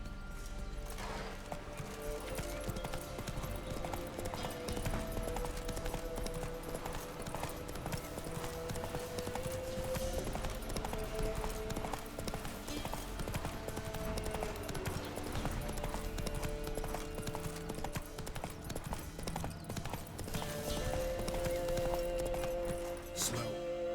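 A horse gallops steadily in the video game The Witcher 3: Wild Hunt, rhythmic hoofbeats continuing throughout over a game music bed, with a faint spoken command amid the action.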